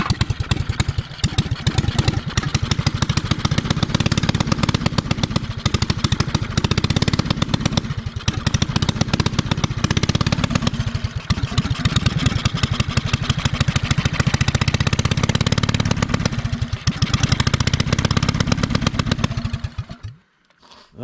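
A Honda GX270 9HP engine mounted on an old Suzuki LT185 frame runs loud and close with a steady, rapid chugging for about twenty seconds, then cuts out.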